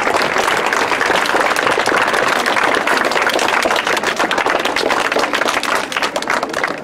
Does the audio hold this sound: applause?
yes